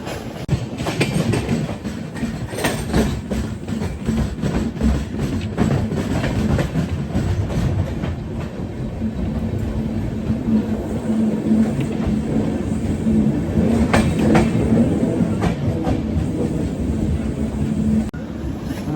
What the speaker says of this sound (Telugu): మన వ్యాప్ 7 లోకోమోటివ్ స్లోగా పుల్ చేస్తుంది